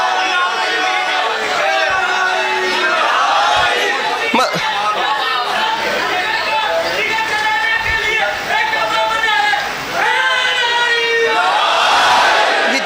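A crowd at a Chehlum Imam Hussain majlis in an imambargah raises loud, continuous shouted slogans and cries, dense and close, with overlapping voices swelling in waves throughout.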